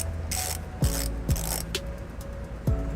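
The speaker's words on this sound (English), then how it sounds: "I'm going to go ahead and take a 18mm socket. And I'm just going to go ahead and ratchet it up." A ratchet with an 18mm socket turns a bolt into a weld nut while a trailer hitch is fitted to a 2008 Toyota RAV4, giving steady close clicking with a few sharper ratchet strokes.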